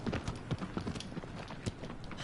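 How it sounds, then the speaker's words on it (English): Horse hooves clip-clopping at a gallop in Shadow of the Colossus, a steady run of soft, near thuds with faint voice in the background. "This horse is slow, physically and mentally"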